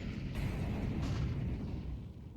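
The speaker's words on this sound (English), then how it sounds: "Flashbang in toward mid-bridge" A flashbang grenade bursts in the video game Counter-Strike 2, a loud booming blast that rolls into a thick, sustained rumble and slowly fades over a couple of seconds.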